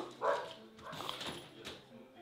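A dog at home gives one sharp, close bark near the start, followed by softer yips and whimpers as people talk nearby.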